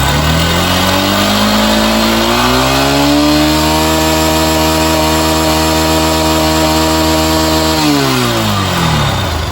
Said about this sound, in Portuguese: Liga a moto aí. O motor vai explodir e não carrega.